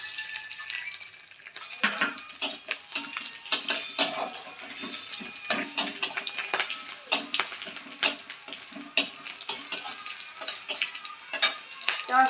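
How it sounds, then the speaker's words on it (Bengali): Cumin seeds sizzle and crackle in hot mustard oil in a pan, a steady close frying hiss broken by the scrape of stirring. "এবার সরষের তেল দিয়ে দেবো এর মধ্যে।"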